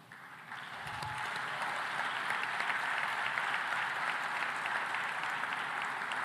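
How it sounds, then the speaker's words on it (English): An audience at an African food systems forum at JNICC breaks into a round of applause for the finalists; the clapping swells in after a brief pause and holds as a full, steady wash. "Please, round of applause."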